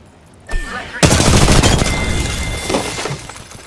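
Close, loud gunfire in Apex Legends: a sharp shot, then a heavy burst of rapid fire with shattering impacts that rattles on and slowly tails off, with a brief voice in the mix.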